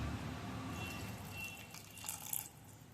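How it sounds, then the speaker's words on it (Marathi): Water is poured into a mixer-grinder jar while grinding the batter for Khandeshi dabukwade, a faint trickle with light dripping in a quiet kitchen. "थोडंसं आपण याच्यामध्ये पाणी टाकूया"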